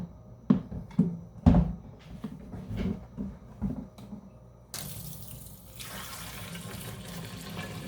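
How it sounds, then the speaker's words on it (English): Dirty water poured out of the tank of a Hoover PowerDash carpet cleaner: a few plastic knocks and clunks, then a steady splashing stream of liquid pouring into a sink. "It has a quick pour spout to open this up to pour it out"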